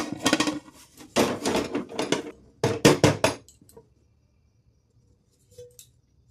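Cooled orange sponge cake turned out of its tin into a dish, several clattering bursts of metal knocking and scraping against the dish, then quiet with one faint tap near the end.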